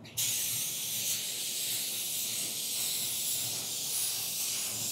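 A spray gun lays a light coat of car paint, giving a continuous close airy hiss that starts abruptly and holds steady for several seconds.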